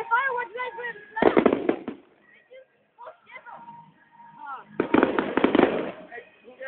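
Bonfire Night fireworks at Baxters Park in Dundee burst in crackling bursts, loud and close, between stretches of people chatting nearby.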